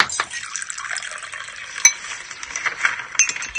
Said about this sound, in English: This is the sound of breakfast in bed.